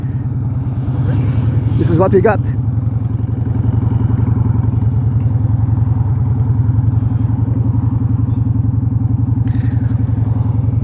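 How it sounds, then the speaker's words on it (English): A noisy motorcycle engine idles with a loud, steady, rapid chugging close by, running throughout while someone talks over it briefly. "I might have to talk a bit loud because this motorcycle is noisy. It's a noisy motorbike"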